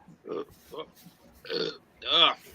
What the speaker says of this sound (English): Beer burps.